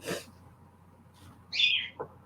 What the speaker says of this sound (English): Oh, bird.